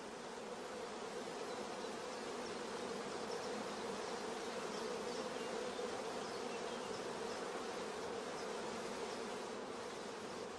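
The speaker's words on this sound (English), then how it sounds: "Bees crowding thickly around the cells is a first positive sign of good acceptance." Dense steady drone of honey bees crowding around queen rearing cells on a frame, an even continuous buzz of many insects close by with no voices and no breaks.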